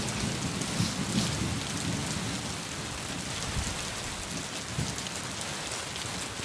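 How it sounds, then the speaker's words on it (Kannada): Steady heavy rain in Karnataka pattering on surfaces, with low rumbles of thunder rolling underneath at a distance. "ಒಂದಷ್ಟು ಕಡೆ ಗುಡುಗು, ಸಿಡಿಲು, ಮಿಂಚು, ಗಾಳಿಯ ಸಮೇತ ಮಳೆ ಬಂದಿರೋದು ನೀವು ನೋಡ್ಬೋದು"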